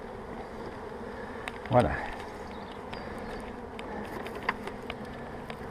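Honey bees buzz at an open hive during a spring inspection, a dense steady drone close to the listener, with a brief louder pass near one bee and someone speaking French over it.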